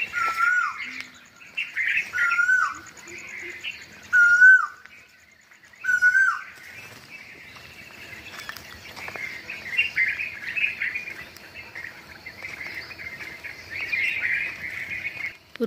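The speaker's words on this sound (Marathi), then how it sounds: "कोकिळा आला." An Asian koel calls at dusk in a few clear, repeated, moderately close notes over the first seconds. Softer chirping from other birds carries on behind it, and no one speaks.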